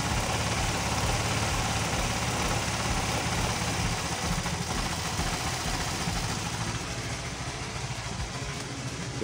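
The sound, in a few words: automatic scooter engine idling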